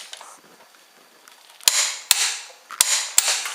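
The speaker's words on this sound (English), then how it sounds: "start with any lug nut, tighten till it clicks" A torque wrench tightening a car's lug nuts gives four sharp, loud clicks spaced about half a second apart, each followed by a brief ratcheting rasp, after a quieter stretch of faint handling noise.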